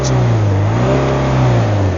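A car engine revs loudly and continuously at high rpm, its strong droning tone rising slightly and holding steady for two seconds with no other sounds.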